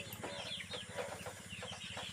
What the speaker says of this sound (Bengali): এখানে হাইব্রিড জাতের সোনালী মুরগি